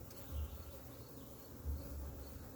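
Honey bees buzz during a hive inspection, a steady soft drone of many insects humming close by, swelling slightly in places, with no talk.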